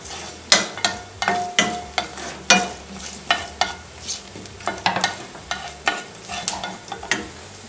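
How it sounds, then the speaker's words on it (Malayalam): Cashews or peanuts frying in hot oil after mustard seeds have popped while poha is made, a soft sizzle broken by regular sharp scrapes and clacks of stirring. "കടുക് പൊട്ടിയതിന് ശേഷം നമുക്ക് കശുവണ്ടി ഇട്ട് കൊടുക്കാം"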